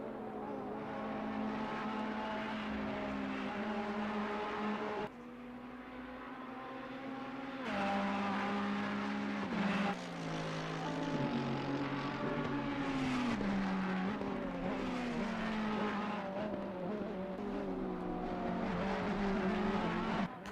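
Ferrari race cars lapping Oulton Park in a racing video game, engines droning steadily with rising and falling pitch as gears shift, continuous and loud throughout with occasional brief tire squeal.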